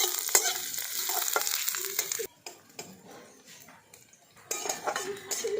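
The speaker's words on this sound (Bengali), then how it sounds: "পেঁয়াজটাকে আমি হালকা করে ভেজে নিয়েছি" Onions lightly frying in a wok for egg shami kebab, sizzling steadily with stirring scrapes and a few utensil clinks, quieting briefly midway before the sizzle returns close and clear.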